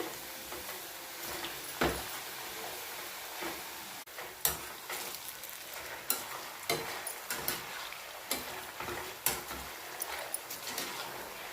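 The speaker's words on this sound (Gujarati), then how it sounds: "ફૂલ ગેસ ઉપર આપણે આ બટાકાની ચિપ્સને આપણે તળવાની છે" Hot oil sizzles steadily as potato chips deep-fry on full flame, with intermittent scraping clicks from a utensil stirring the pan.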